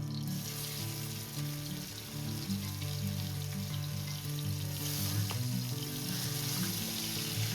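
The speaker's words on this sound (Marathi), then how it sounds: "तेल जाम उडतंय बॅकग्राउंड" Crushed garlic fries in hot oil in a pan, a steady close sizzle with constant popping and splattering that runs the whole time without a break, and no talking over it.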